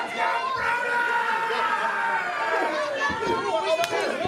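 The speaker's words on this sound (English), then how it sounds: "The crowd cheering for Brody Jackson, but I'm not sure if he even hears it." A crowd at a live wrestling event cheers and chatters steadily, a broad, sustained roar filling the venue with scattered shouts rising near the end.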